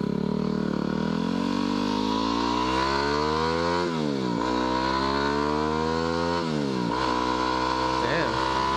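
A dirt bike engine drones loudly and close, its pitch climbing through the gears with sharp drops at each shift, then holding a high buzzing rev near the end.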